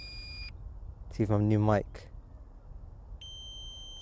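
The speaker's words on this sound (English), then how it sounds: "the beeping noise has started" A DJI Mini 3 Pro drone in flight, fitted with a microphone, emits a steady high electronic beeping in two short bursts, one at the start and one at the end, over faint rotor hiss; someone speaks briefly between them.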